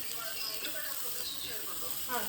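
Garlic drops into hot oil in a pan for a Kolhapuri mutton thali and sizzles with a soft, steady hiss that stays fairly quiet throughout.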